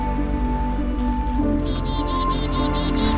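Agitated chickadees scold from a woodland patch, where a barred owl has landed. Several bright, rapid high chirps repeat in a fairly steady run after about a second and a half. They sound moderately close over a constant low hum of background noise.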